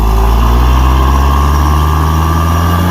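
A dump truck's heavy diesel engine runs steadily and close by, a loud, deep, continuous rumble with a constant low hum that never lets up.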